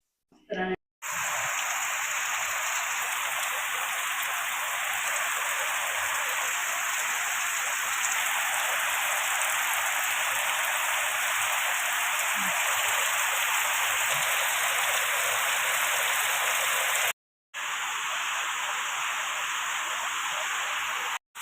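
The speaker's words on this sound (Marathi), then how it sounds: "संध्याकाळचे साडेपाच झालेत आणि पाऊस कंटिन्यू चालू आहे दुपारपासून" Steady, heavy rain pours down continuously in a Konkan village, a dense even hiss of falling water that briefly cuts out once before resuming.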